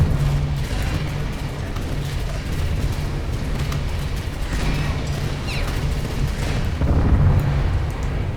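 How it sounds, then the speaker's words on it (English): Naval battle in the video game War Thunder, a large ship firing torpedoes amid steady rumbling explosions and booming gunfire, loud and continuous throughout with a few heavier blasts. "It's going to fire a bunch of torpedoes his way."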